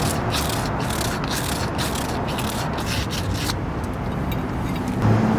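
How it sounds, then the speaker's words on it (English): Sandpaper scrubs a 2nd-generation Toyota Prius front wheel hub during a wheel bearing replacement, a loud continuous gritty rasp with faint rhythmic strokes near the start, heard close and without talk. "Clean it with a sandpaper."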